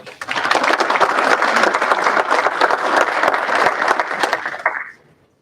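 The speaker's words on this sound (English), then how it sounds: "round of applause for Andrea" An audience at a university social sciences awards ceremony claps for Andrea Hoffman: dense, loud applause swells in quickly, holds for several seconds, then stops abruptly.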